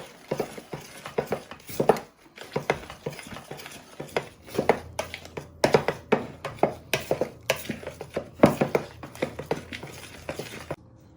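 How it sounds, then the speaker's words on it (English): Knife working bread flour and salt together in a bowl, a steady run of soft scraping taps and clicks repeating at an uneven hand-worked rhythm, close and fairly quiet with no talking. "you want to properly bind this together with your knife"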